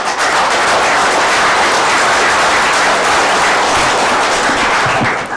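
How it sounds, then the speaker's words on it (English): An audience applauds at a county Board of Supervisors meeting, with loud, steady clapping from many hands that fills the room for several seconds. "I wonder if it'd be appropriate to ask them to hold the applause."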